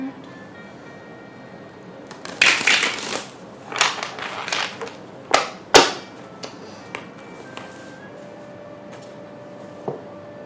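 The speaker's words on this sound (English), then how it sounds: "one more shuffle of these cards and then we'll start" Tarot cards are shuffled by hand in a series of irregular crisp riffles and slaps, close and fairly loud, clustered mid-way with a softer tap near the end over a quiet room.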